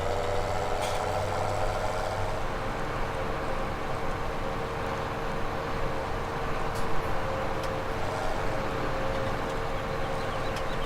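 Truck engine in Farming Simulator 17 on the PV Rivers Reloaded map, a steady, unbroken mid-pitched drone held at even loudness throughout, with no talk over it.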